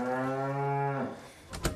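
A cow on an alpine pasture lets out one long, low, close moo lasting about a second, followed by a short bit of rustling noise.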